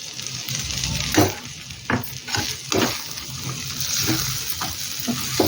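Brinjal fry in a pan with masala powder being stirred through, steady soft sizzling with repeated scraping strokes of a spoon at close range.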